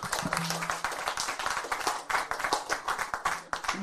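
A church congregation claps together in steady, dense applause that carries throughout, with a faint voice briefly audible beneath it.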